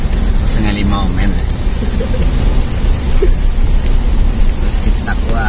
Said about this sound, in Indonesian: Mudah-mudahan hujannya cepat berhenti.